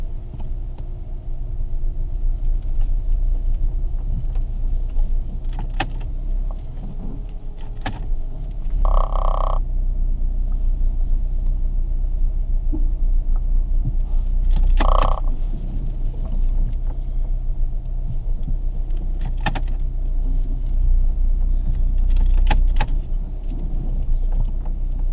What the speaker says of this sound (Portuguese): Vamos lá, deixa eu virar o carro aqui.